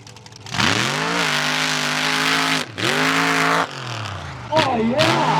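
A rear-engine mud drag racing car at a mud drags event in Valemount accelerates hard, its loud engine note climbing steadily, dropping briefly as gears shift, then revving again; an announcer's voice runs alongside.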